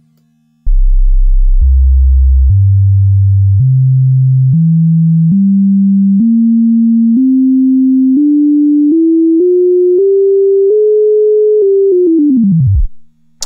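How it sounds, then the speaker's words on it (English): A pure sine-wave tone from the Logic Pro X EFM1 synthesizer climbs in distinct steps through the harmonic series, each pitch held about a second, rising steadily before sliding down and cutting off; loud and steady throughout. "what we're hearing there is the sine wave and the different harmonic that we're scrolling through"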